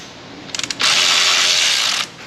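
A ratchet turns a Torx fastener on a Duramax 6.6 engine, starting with a few quick clicks and then a steady, close whirring ratchet run lasting about a second.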